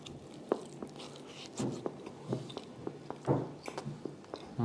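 Someone bites into and chews smoked St. Louis style pork ribs, with close, irregular soft crunches and moist chewing sounds in a quiet room.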